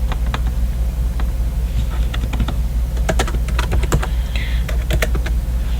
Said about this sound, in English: and I'm going to type it here for you